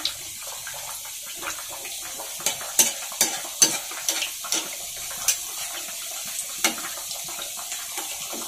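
Samosas fry slowly while submerged in hot oil, a quiet, even bubbling hiss broken by scattered soft pops and occasional sharper crackles, heard close with no voices.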